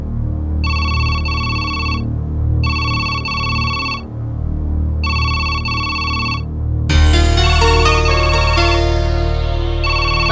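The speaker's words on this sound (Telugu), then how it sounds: "ఫోన్ రింగ్ అవుతుంది." Phone ringing in a Telugu movie scene: three loud electronic ringtone bursts in a regular on-off pattern, then a shift into a brighter, denser melodic ringtone that plays on to the end.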